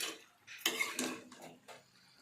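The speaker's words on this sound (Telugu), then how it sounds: "మొత్తం అంతా ఇలాగా కలపాలి ఫ్రెండ్స్." A spoon scrapes and clinks against a metal pot while food is mixed, giving a few quiet, irregular scraping and tapping sounds over a short stretch.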